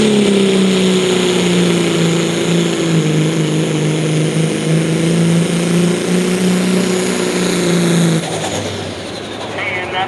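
A pulling truck with a Mac 300 engine roars at full power at an OSTPA truck and tractor pull in Coshocton, Ohio, a loud droning howl that drops away abruptly near the end, with an announcer shouting over it.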